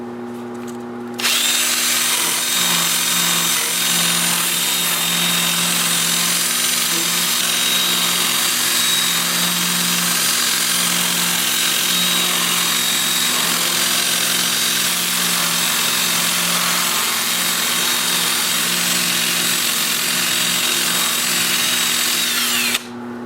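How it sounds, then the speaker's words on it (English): A 2-inch sanding disc with 80-grit paper whirs steadily against turned driftwood, a loud continuous high-pitched power-tool whine that starts abruptly and runs without a break until it cuts off. "I will switch to my 2-inch disc starting at 80 grit and sand all of the parts that I've turned"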